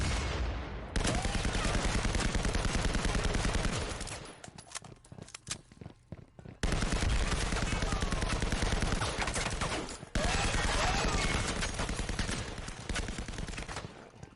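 Heavy gunfire in a competitive first-person shooter match, long loud bursts of rapid automatic shots broken by short quieter gaps, with sparse single shots and footsteps between the volleys.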